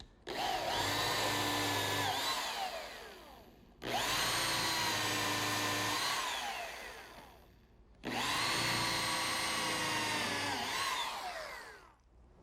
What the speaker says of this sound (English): Now a pilot hole and countersink.